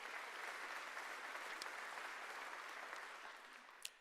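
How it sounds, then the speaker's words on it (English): An evening foundation event audience applauds the sponsor who supplied the reception furniture: a dense, even wash of many hands clapping at once, steady and loud, tapering slightly near the end. "so an applause for them as well, please."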